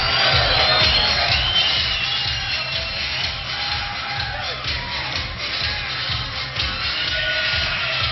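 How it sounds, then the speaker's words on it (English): A restless crowd fills an arena before a night of fights with a constant, dense roar of chatter and murmuring. Occasional louder swells rise out of the steady wash. "The crowd's restless."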